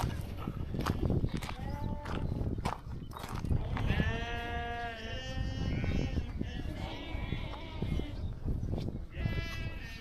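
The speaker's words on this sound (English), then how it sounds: "I've always thought sheep went bah. They don't, they go meh." Several sheep bleat close by, overlapping in a noisy flock amid constant shuffling and background rustle.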